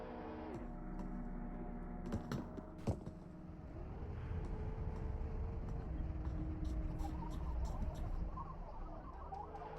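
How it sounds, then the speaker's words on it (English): A motor drones continuously in Receiver 2 under a low rumble, joined by a few sharp clicks and pattering sounds, at moderate distance with no talk. "where am I hearing that motor from?"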